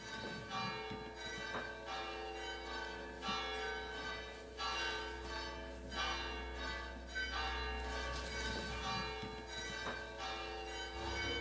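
Several church bells ring together in a jumbled noon peal in western Sardinia, with overlapping strokes that keep a loose, repeating rhythm. The bells are loud and full and sound alone, with no voices.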